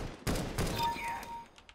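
Gunfire from the Counter-Strike: Global Offensive video game, a sharp burst of shots cracking out near and loud, followed by a brief ringing tail.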